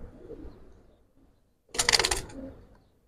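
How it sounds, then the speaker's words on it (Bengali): A female Giribaj pigeon coos softly nearby, low murmurs at first, then a brief, louder burst of sound around the bird. "এটা মাদি কবুতরটা দেখেন"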